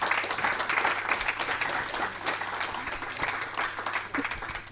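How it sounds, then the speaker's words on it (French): Audience at a public dialogue on the ocean and climate applauds, sustained clapping across the whole stretch, moderately loud and fairly close. "Je vous demande vraiment de les applaudir parce que c'est remarquable."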